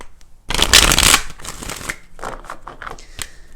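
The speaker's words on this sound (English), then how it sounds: "let's go ahead and do 4 major shuffles" Tarot cards are shuffled close up, with a loud riffling burst followed by softer shuffling and a few sharp taps.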